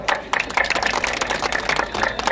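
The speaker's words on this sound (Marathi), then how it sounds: "एकदा त्यांच्यासाठी टाळ्या वाजवा" Applause breaks out at a Khandoba village fair's bullock cart race festival in Brahmanwada, with a dense, uneven patter of many hands clapping close by in short surging bursts.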